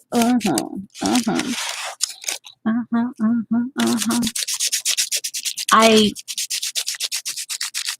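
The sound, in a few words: rubbing Inktense colour into an art page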